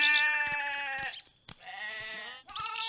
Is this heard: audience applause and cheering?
no